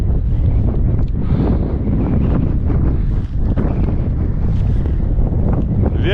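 Strong gusting wind on a 2669-metre mountain summit, buffeting the microphone in loud, continuous roaring blasts with no voices.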